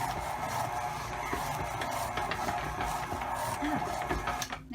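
An electric mixer motor stirs a pumpkin spice marshmallow mixture, giving a steady, close mechanical whir with faint ticking that runs unbroken for a few seconds.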